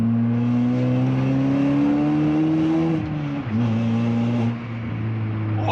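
A car with a newly fitted complete exhaust system runs loud and close, a steady deep engine drone that climbs slightly in pitch, dips briefly, then settles back to a constant rumble, with no voices.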